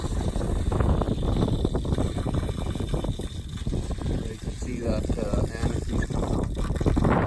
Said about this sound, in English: I'll turn the water on and we'll start flushing these lines out at the outside kitchen